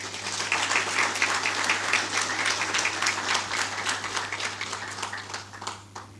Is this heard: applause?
yes